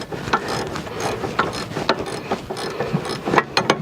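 A ratchet loosens a bolt on the front stabilizer bar of a 2007 Kia Rondo that has a clunking fault. Close, fast, uneven clicking and metallic rattling runs throughout with no talking.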